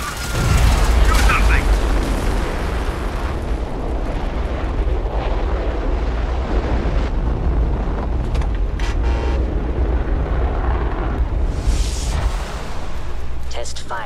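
A test firing in Fallout 4 sends out a massive sustained roaring blast, deep and loud for many seconds, with sharper bangs and crackles along the way and a voice speaking over it.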